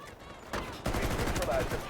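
Full-auto M14 rifle bursts in the Delta Force video game, rapid loud shots rattling over a second and a half after a brief quieter lead-in.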